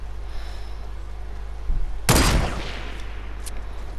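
A single loud sniper rifle crack in Fortnite rings out over a steady low hum, preceded by a softer thump and followed by a fading tail and a couple of faint later ticks.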